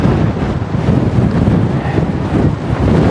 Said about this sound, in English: I kind of have like a headwind crosswind coming from like my between 1 and 2 o'clock position